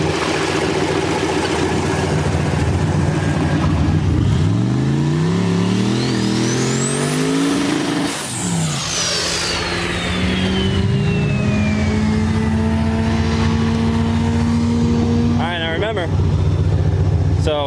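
A turbo V8 Nissan truck makes a drag strip pass, its engine roaring loudly as it revs up through rising gear pulls, with a turbo whine and crowd or announcer talk mixed under the engine.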